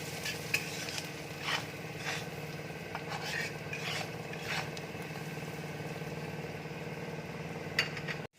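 Afghani omelette mixture seasoned with chili powder frying in a pan, a steady close sizzle with occasional stirring scrapes throughout.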